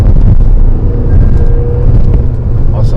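A Tata Safari SUV accelerating hard in sport mode, a loud, dense engine and road roar heard from inside the cabin with wind buffeting throughout.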